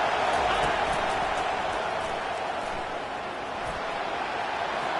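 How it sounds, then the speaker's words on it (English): Stadium crowd at an American football game, a broad, steady roar of many voices, distant and even, holding at a constant level throughout. "This crowd bringing the energy and noise early."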